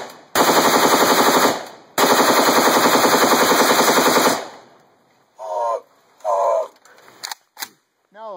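A PS2 rifle fired by shoulder bump-fire rattles off two long, loud bursts of rapid, evenly paced shots close by, followed by a short gap and a few brief voices.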